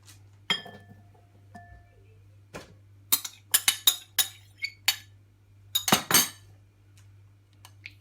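Spoon clinking against a bowl while mixing cheese, mozzarella, mayonnaise and pepper sandwich filling, a few scattered taps followed by a quick run of sharp, bright clinks, then quiet.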